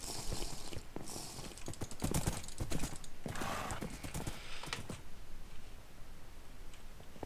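Horse hooves galloping in a Minecraft Survival Games match on a Hypixel server, a rapid busy clatter running through the first five seconds, loud and close, with game noise and brief voices mixed in before it thins out.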